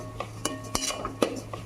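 A spoon scrapes and taps through a mango laddu mixture in a pan with irregular light clinks, close but faint, over a low steady hum.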